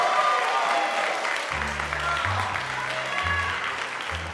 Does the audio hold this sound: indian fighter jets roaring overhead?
no